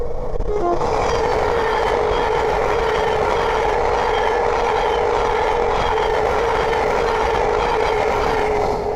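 A Thameslink class 700 electric train passes on the East Coast Main Line at Great Wymondley, a steady loud whirring rush with a brief horn toot near the start, then continuous rolling noise.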